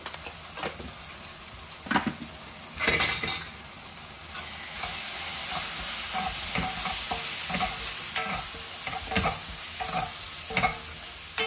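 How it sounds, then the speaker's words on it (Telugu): Dal khichdi tempering fries in a pan with chili powder and turmeric, a steady close sizzle punctuated by repeated scraping stirs of a spoon against the pan. "ఒక 1 మినిట్ మళ్ళీ ఫ్రై అవనిద్దాం."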